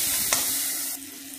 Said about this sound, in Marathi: अर्धा चमचा हळद पावडर, काळा मसाला, लाल तिखट छानपैकी परतून घ्यायचं